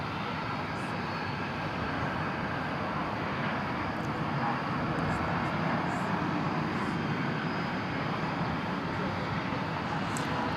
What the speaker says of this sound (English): Looks like that American 737 has the pole position on its way to Fresno